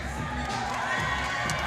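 Crowd at the Broad Street Ballroom gives boxer Eddie Martinez an ovation after his fight with Danny Millet, a steady roar of cheering and shouting that fills the hall without pause.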